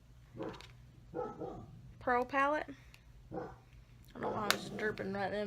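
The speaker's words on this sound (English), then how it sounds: "Sorry about the dog barking in there." A dog barks several times in a room, the sharp yips and barks mixed in with someone talking close by during a makeup tutorial.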